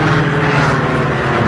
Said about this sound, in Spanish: Las recias manos de Calimán accionaban el timón de la avioneta y todo el aparato se estremecía al perder altura. El motor fallando hacía que el descenso fuera entorpecido